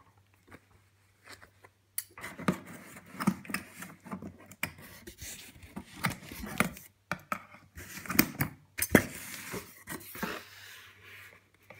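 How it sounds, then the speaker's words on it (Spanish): Scissors cut open the cardboard box of a Samsung BD-H6500 Blu-ray player, a close series of rough scraping and snipping sounds with brief pauses, with no talking. "vamos a poner las tijeras por aquí"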